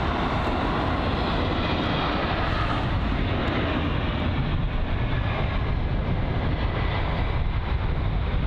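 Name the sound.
Air China Boeing 777 aircraft moving at Heathrow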